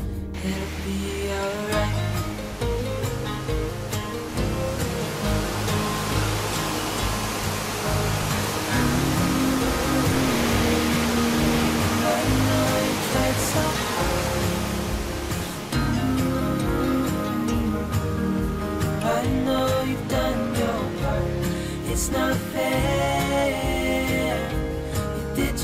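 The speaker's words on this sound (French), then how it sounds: "Le Gifre, ce torrent tumultueux qui nous fait découvrir des gorges" The Gifre, a turbulent mountain torrent, rushes through deep gorges near Sixt in a loud, continuous roar of churning water that stays steady and close throughout.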